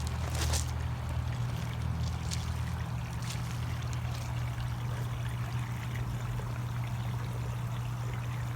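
Water splashing and trickling steadily from a rock waterfall into a backyard fish pond in southwest Georgia, a continuous close wash of pouring water with a low steady rumble underneath.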